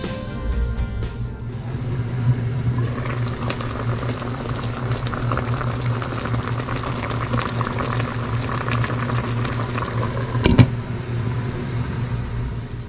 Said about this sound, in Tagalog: Tapos salang na natin at uh, low heat lang ang ating pagluluto